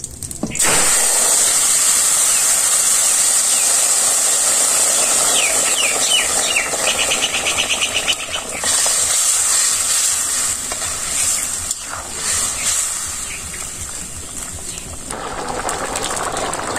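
Cumin seeds hit hot oil for tempering in a simple village kitchen, giving a loud, steady, close sizzle that crackles on without pause, with no voices over it.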